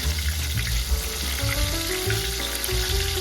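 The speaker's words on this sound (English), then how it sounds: "raise the temperature and fry the meat again" Breaded pork cutlet being deep-fried a second time in hotter oil for tonkatsu, crackling and sizzling steadily and loudly up close throughout.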